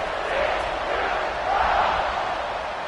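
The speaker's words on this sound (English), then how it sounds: "this crowd is buzzing after that last score" A football stadium crowd buzzes with a steady, dense roar after a touchdown at a TCU versus Arizona game, swelling slightly midway through.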